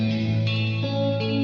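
Stereo, double-tracked electric guitar drenched in big reverb with a full low end, sustained chords ringing and washing together over a short phrase, loud and alone.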